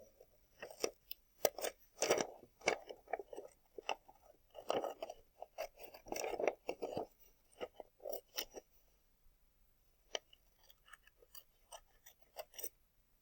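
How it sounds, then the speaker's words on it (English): Scissors snipping around a paper heart, a series of close, irregular crisp cuts and rustles with short pauses between them, fairly quiet overall and no talk. "cut your heart out after you draw it"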